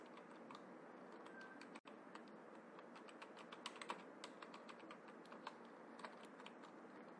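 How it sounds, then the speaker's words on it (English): Keyboard typing at a computer while copying text from a textbook into a document, a steady run of quick clicky keystrokes with a few louder taps, close and alone with no talk. "I am typing what is there in the textbook."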